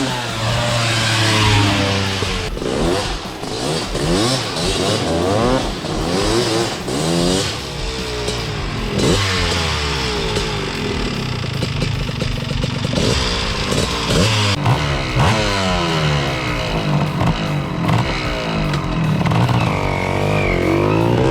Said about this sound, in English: warming up the 250R right now